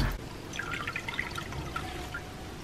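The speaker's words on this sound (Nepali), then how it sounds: "मेरो अर्किडमा पानी नै हाल्न बिर्सेछु" Water pours from a container onto a potted orchid, giving a soft, steady trickle with scattered splashy drips, fairly close and continuous.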